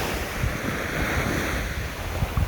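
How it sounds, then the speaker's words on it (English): Ocean waves wash onto the shore in a soft, continuous surf roar, with gusts of wind buffeting the microphone and a few low thumps. "Listen to the waves."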